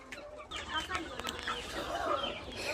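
Local desi chickens cluck and chatter softly on a farm, irregular short calls near and far over a quiet background, with a faint voice now and then.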